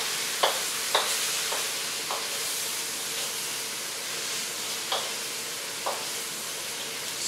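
Satay vegetables sizzle steadily in a pan while being stirred, with several sharp scraping taps of the utensil spaced through the continuous hiss.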